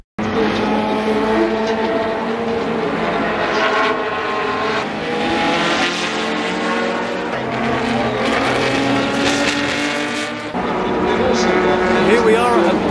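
Classic race cars roar around the Silverstone Classic circuit, a continuous loud wash of engines passing and overlapping at a distance, with a person talking over the noise.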